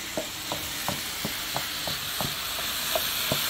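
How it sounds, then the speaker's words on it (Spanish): Rice being stirred in a frying pan for a fish-and-rice dish, rhythmic scraping strokes about every third of a second over a steady close sizzle, with no voices. "echamos el arroz y empezamos a revolver"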